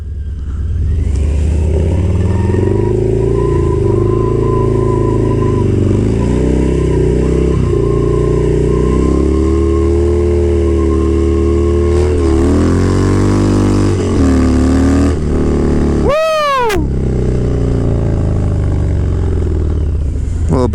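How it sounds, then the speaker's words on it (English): A brand-new Harley motorcycle engine runs continuously and loudly during stunt riding, its tone rising and falling as the throttle is blipped and revved, with a sharp high whine near the end. "Gonna be putting this Harley through the test."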